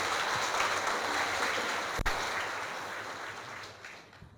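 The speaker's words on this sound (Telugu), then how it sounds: "Please clap for your self and please be seated." A seated audience at a Maha Shivaratri spiritual gathering in Vijayawada claps for itself, a dense steady round of applause with one sharp knock midway, slowly thinning out toward the end.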